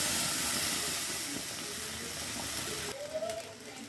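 Cumin, bay leaf, ginger, chilli, cashews and tomato paste go into hot oil in a kadai, giving a loud, steady close sizzle that eases slightly and then crackles briefly after a fresh addition.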